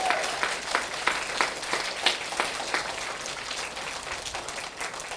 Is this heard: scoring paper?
no